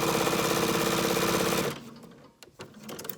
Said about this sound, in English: you're sewing in one continuous line through most of these